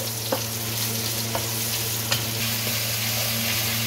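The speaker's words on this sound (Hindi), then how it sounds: "एक बड़ा प्याज जिसकी मैंने स्लाइस में कटिंग की है वो डाल दें इसमें और प्याज को इसमें फ्राई कर लें।" Sliced onion frying in oil in a kadai, a steady hissing sizzle with a few sharp stirring clicks over a constant low hum, close and fairly loud, without talk.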